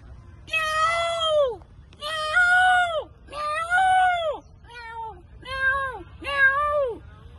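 A mimicry artist's voice imitating a peacock's call: six loud, close, wailing cries in a row, each rising then sliding down, separated by brief pauses.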